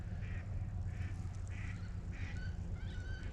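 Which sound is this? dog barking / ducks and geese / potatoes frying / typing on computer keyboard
ducks and geese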